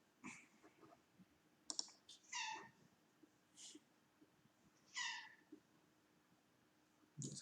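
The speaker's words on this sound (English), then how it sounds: "There's a cat here that came to visit." A visiting female cat gives a few short, faint meows, spaced apart among light clicking and tapping, with soft room noise between calls.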